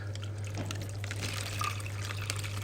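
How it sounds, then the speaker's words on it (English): Water pouring into a net as a fish is tipped in from a container, a steady near splashing trickle over a low constant hum from tank equipment. "So I'm just going to pour him into the net."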